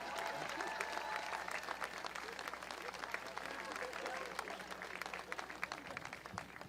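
Applause from a crowd at a statue unveiling, a steady dense patter of many hands clapping at moderate loudness, with voices mixed in.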